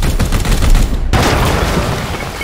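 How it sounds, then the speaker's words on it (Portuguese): Explosion during a turn of the tactical video game Warhammer 40k: Chaos Gate - Daemonhunters: loud rattling bursts of gunfire-like crackle, then a sudden sharp blast that gives way to a dense, roaring wash of debris noise. "Vamos explodir aquilo ali."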